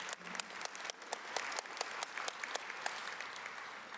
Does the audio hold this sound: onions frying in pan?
no